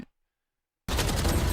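Silence, then a sudden loud burst of rapid automatic gunfire from a competitive shooter game match, sustained and dense right up close.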